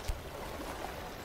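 Water splashing and lapping around a character in a climbing video game, soft and fairly faint, with one brief louder splash near the start and a gentle continuous wash after it.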